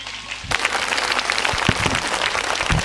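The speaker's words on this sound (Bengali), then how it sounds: "জোরে করতালি।" Loud audience applause bursts in abruptly after a brief quiet moment and continues as dense, steady clapping from a crowd at a staged comedy event.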